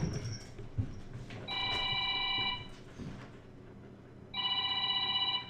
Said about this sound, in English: Somebody's calling the bat phone.